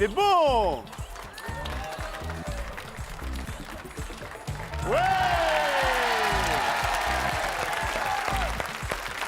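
A studio audience on a French game show bursts into loud, sustained applause and cheering, with a presenter talking over it and electronic show jingles sweeping in and out.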